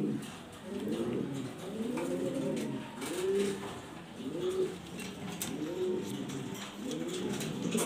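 A pair of black, top-quality exhibition pigeons kept for breeding coo steadily and close by, low rolling calls repeating about once a second with no voices over them.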